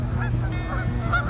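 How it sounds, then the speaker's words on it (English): A Canada goose honks repeatedly, loud nasal calls close by in quick succession over a noisy outdoor background. "Adult Canada geese have about 13 different calls, ranging from low clucks and murmurs, communicated while feeding, and loud greeting and alarm calls."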